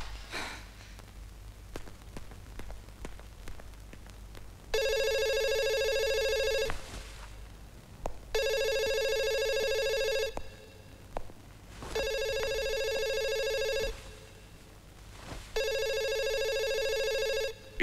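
A telephone rings four times in steady bursts, each long trill separated by short pauses, loud and close with a faint low hum underneath.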